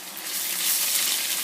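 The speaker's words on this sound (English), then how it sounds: "As soon as the ginger hit the oil" Fresh ginger hits hot oil in a pan while orange chicken is cooked, a steady, bright hiss of frying that rises quickly and holds with no voices.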